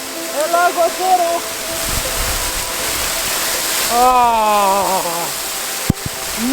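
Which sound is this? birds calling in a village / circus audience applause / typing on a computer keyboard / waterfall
waterfall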